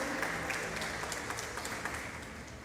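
A church congregation claps together at an evening service, a steady, dense wash of hand claps at moderate volume lasting a few seconds, without talk over it.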